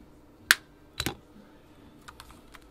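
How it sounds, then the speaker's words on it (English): Wire cutters trim an electric guitar string with two sharp, close snips about half a second apart, followed by a few faint small ticks in an otherwise quiet room with no speech. "you're going to trim your string."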